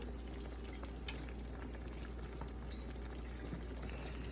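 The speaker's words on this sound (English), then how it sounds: "I'm gonna start adding that to the mixture." A pan of sauce with Worcestershire simmers quietly and steadily, a soft continuous bubbling and sizzle with a few faint ticks, no voices.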